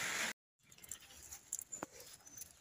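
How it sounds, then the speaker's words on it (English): Light rain drizzles outdoors beside an old Black Mamba bicycle, heard as a faint, soft patter of scattered drops after a brief dropout, with a few slightly louder ticks. "it has started to rain"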